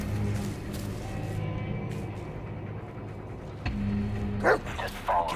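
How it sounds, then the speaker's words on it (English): A dog in the horror video game Blair Witch barks repeatedly in short, sharp bursts close by, over a steady low rumble of game ambience, with a few louder yips near the end. "Oh, okay. The dog."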